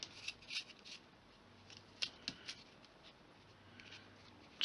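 Scissors snipping the end of baker's twine wrapped around a handmade Christmas card, a few crisp, faint cuts mixed with light rustling of twine and paper, close and quiet.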